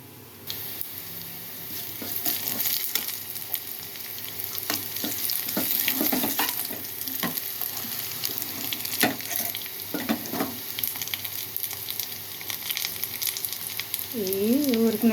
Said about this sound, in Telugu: ఇది పక్కన పెట్టేసుకొని ఇప్పుడు తాలింపు చూద్దాం.